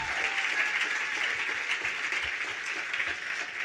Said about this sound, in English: Can y'all give my congressman a round of applause?